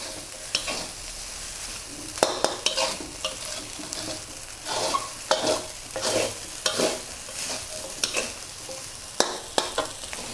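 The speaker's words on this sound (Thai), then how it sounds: "หลังจากนั้นเราก็จะมาใส่ธัญพืชของเราทั้งหมดลงไปเลยค่ะ ผัดผสมให้ทุกอย่างเข้ากันเลยนะคะ" Rice with mixed grains is stir-fried in a pan for a vegetarian fried rice, with continuous sizzling and repeated scraping, clattering strokes of a spatula against the pan at an irregular, busy rhythm, close and fairly loud.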